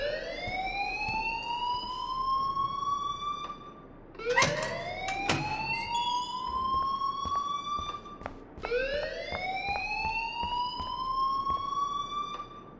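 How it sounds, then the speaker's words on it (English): A fire alarm rings in the video game Life Is Strange: a rising, siren-like electronic wail that repeats in long sweeps, loud and steady, with sharp clicks and knocks scattered through, and no one speaking. "please turn off that alarm since that's your job"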